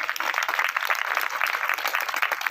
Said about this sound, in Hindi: पुनः जोरदार तालियां